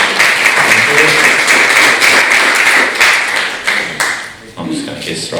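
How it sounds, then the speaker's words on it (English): An audience gives a big round of applause welcoming the singer Les at a local music night, a loud, dense clapping crowd with some voices, tapering off near the end. "Give Les a big round of applause"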